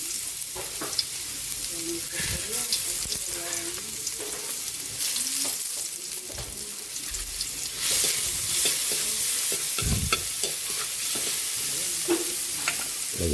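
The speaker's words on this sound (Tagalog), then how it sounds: "Magigisa na tayo para sa ating sarsyadong kamatis. Lagay na natin itong bawang." Garlic sautéing in a pan in oil for a Filipino tomato sauce, a sustained, close sizzle with frequent scraping stirs and clinks of the spatula throughout, louder crackling near the end, with no talking.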